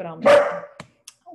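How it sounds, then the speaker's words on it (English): A dog barks a few times close by, short sharp yaps with a brief whimpering tone, overlapping a person talking. "That's my dog."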